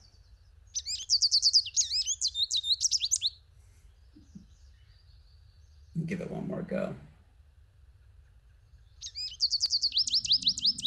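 A backyard bird gives rapid bursts of nasal, pinched, high-pitched calls, two clear runs of repeated notes separated by a pause, with a person speaking briefly in between.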